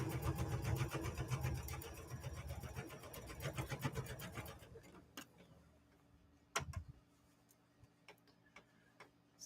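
A sewing machine stitches binding onto a bear wall-hanging, a steady rapid ticking whir for about four seconds that then stops, followed by a few faint clicks and handling sounds.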